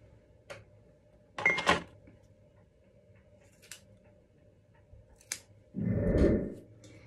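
Scissors snip through a man's hair in a basic home haircut, a few crisp close clicks spaced apart, followed by a brief rustling burst near the end.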